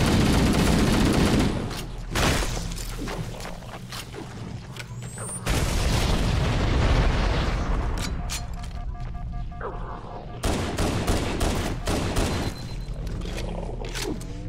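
Shotgun blasts and explosions from Halo: Combat Evolved during a co-op firefight: dense, loud bursts of gunfire and booming detonations that come in heavy waves, with brief lulls between volleys.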